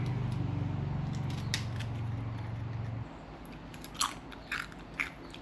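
Crunchy bites into a homemade pickle from a garden harvest, several sharp crisp crunches close to the mic over a low steady hum, the bites clustered near the end.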